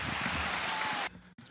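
A canned applause sound effect plays as a dense, hissy clatter of clapping for about a second, then cuts off abruptly into quiet background.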